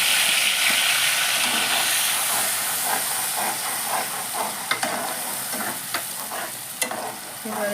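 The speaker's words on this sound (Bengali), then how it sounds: "এবার আমি ওই যে তোমাদের দেখিয়েছিলাম আদা, পেঁয়াজ আর রসুনের পেস্টটা এটার মধ্যে ঢেলে দেবো।" Ginger, onion and garlic paste hisses and sizzles loudly in hot oil in a pan, a dense steady frying roar with occasional scrape and clink of stirring, fading slightly over time.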